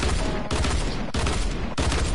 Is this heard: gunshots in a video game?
yes